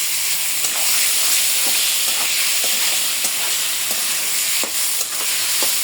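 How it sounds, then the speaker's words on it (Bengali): Potatoes and onions frying in a pan for a river-fish curry, a loud continuous sizzle broken by regular scraping stirs of a spatula, no talking. "আলুগুলো একটু পেঁয়াজের সাথে ভাজছে"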